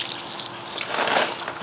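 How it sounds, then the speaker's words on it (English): Water pours steadily onto kale seedlings in a garden, a soft continuous gushing spray that swells slightly toward the end. "I'm gonna water these guys."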